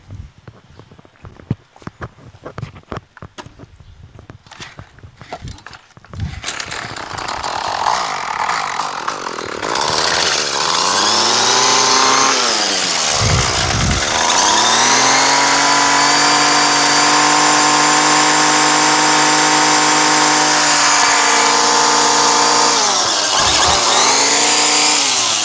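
A Craftsman 32cc straight-shaft weed trimmer, its air-fuel mixture screws just adjusted, clicks and sputters before the small two-stroke engine catches and screams at high revs, bogging down briefly twice while running loud and close.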